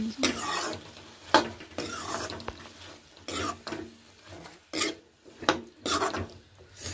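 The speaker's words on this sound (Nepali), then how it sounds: "अब काटेको आलु र सेतो चनालाई राख्ने।" Chopped potatoes and white chickpeas go into a pan of simmering gravy for a Nepalese dish, producing bursts of sizzling, scraping and stirring against the pot, irregular and close, with quiet gaps between strokes.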